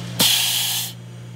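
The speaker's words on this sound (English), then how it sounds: "When filling is complete, a small discharge of autogas is normal." A short burst of propane autogas venting at a fuel fill nozzle when filling ends, a loud broad hiss that starts sharply, holds steady for under a second, then cuts off over a low steady hum.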